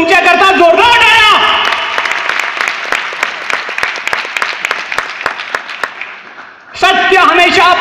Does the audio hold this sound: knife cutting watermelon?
no